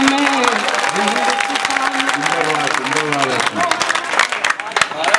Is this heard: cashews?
no